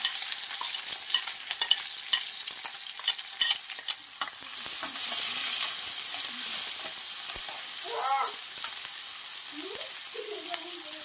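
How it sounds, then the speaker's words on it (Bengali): Chopped onion and garlic fry in a couple of spoonfuls of oil in a pan, a steady sizzle broken by repeated scraping stirs, close and clear, with no talking. "ভেজে নেব এটা একটু পেঁয়াজ রসুনটা।"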